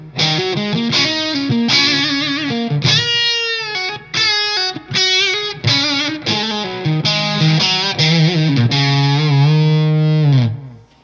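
Electric guitar played through a Nobels ODR-S overdrive pedal into a Mark V amp with reverb, crunchy, bassy and mid-scooped, strummed chords and short riffs ringing out loud and close, ending on a sustained chord.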